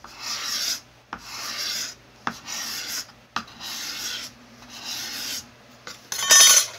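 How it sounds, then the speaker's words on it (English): Steel card scraper drawn across a rough wooden surface in a series of about five long, steady rasping strokes with short pauses between, close and fairly loud, ending in a brighter, harsher scrape. "Card scraper."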